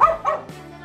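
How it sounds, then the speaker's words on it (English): A dog gives two quick, close barks followed by a brief whimpering whine, indoors on Christmas Day. "He's barking and the blind's closed"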